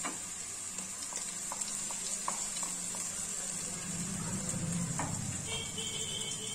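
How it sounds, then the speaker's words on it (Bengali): Ground tomato cooked down with garlic in a pan, a soft low sizzle with occasional faint spoon taps under a steady background hum. "এটাকে দিয়েও একটু কষিয়ে নেব। দেখুন টমেটোটা কষে নিয়েছি"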